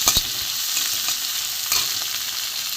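Onions for fish chops sizzle steadily in a frying pan, with a few scraping stirs across the pan breaking through the continuous crackle.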